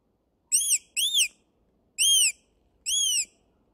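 Devana fox call, a mouth-blown predator lure imitating a weasel squeak: four shrill, high-pitched squeals in quick succession, two close together and then two spaced apart, sharp and clear against near silence.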